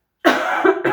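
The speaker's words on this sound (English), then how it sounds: "I'm so sorry you had to hear me coughing." After a moment of silence, one person lets out a close, loud cough, followed by a second short one, with the throat irritated by smoke.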